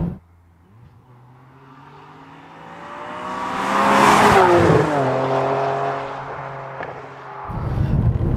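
A Ferrari 612 Scaglietti HGTS accelerates hard in sport mode, its V12 rising from a low idle to a loud, climbing wail that peaks, shifts, and settles before surging again, heard alone without talk.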